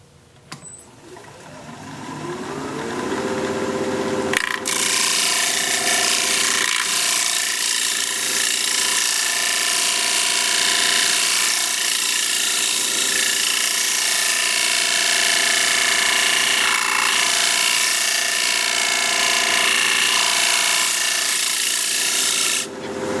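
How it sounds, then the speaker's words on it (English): A wood lathe spins up to a steady whir, then a scraping tool rasps continuously against a thin natural edge wooden bowl, a loud, close, even scratching with no talk. "I'm going to see if I can't scrape that."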